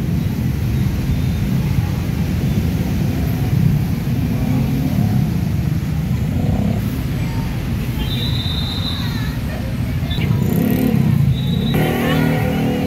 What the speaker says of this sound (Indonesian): Lalu lintas di depan sana Jalan Dr. Semeru terpantau sangat ramai lancar.